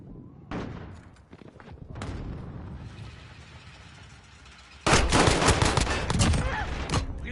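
Call of Duty: Modern Warfare combat, with bursts of rapid gunfire that swell into a loud sustained fusillade near the end, mixed with sharp thumps and cracks.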